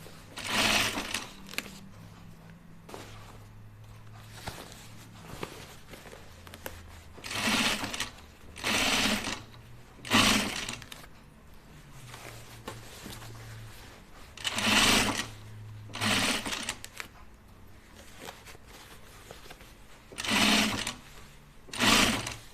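A sewing machine stitches a reworked garment in short close whirring bursts of a few seconds each, separated by quiet pauses while the fabric is adjusted, with no talking.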